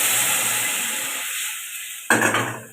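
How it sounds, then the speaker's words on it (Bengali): Water poured into a pan of frying lentils with cumin and chilli, giving a loud burst of sizzling that fades, then a sharp new hiss as more water hits the hot oil. "এর মধ্যে আমি জলটা দিয়ে দিচ্ছি"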